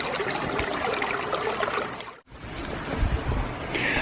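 A creek flowing beneath a footbridge on a hiking trail, a dense steady rush of water close by, with a brief dropout midway.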